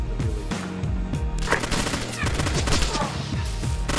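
Enemy gunfire crackles in a military video game, mostly rapid overlapping bursts from fairly close, with shorter single shots mixed in. A radio-style voice talks under part of it.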